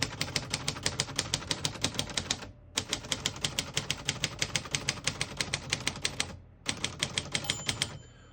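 Rapid clacking keystrokes of a 1953 Royal Quiet De Luxe portable manual typewriter, steady bursts with two brief pauses, close and crisp.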